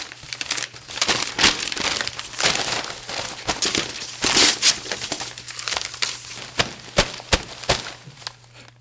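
Paper is crumpled and crinkled up close by hand in a series of loud, irregular rustles and crackles, with no talk.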